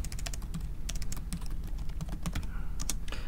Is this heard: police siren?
no